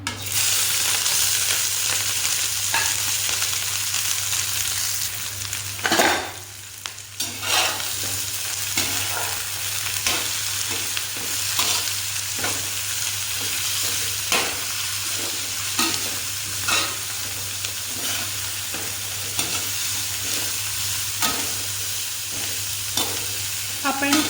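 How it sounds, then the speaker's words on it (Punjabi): Mixed vegetables sautéing in oil in a kadhai for homemade noodles: a constant loud sizzle with frequent spatula stirs and scrapes, a low steady hum beneath, no talk. "ਕੜਾਹੀ ਚ ਪਾਉਂਦੇ ਆ ਤੇਲ ਆਪਾਂ ਸਾਰੀਆਂ ਸਬਜ਼ੀਆਂ ਇੱਕੋ ਸਾਰੀ ਸਿੱਟ ਦੇਣੀਆਂ"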